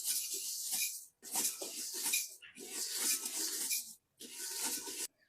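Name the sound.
rice being dry-roasted and stirred in a pot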